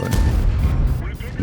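A single heavy tank cannon shot booms in World of Tanks, a loud low blast that rolls on briefly as it decays.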